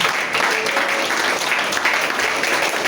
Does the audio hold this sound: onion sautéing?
no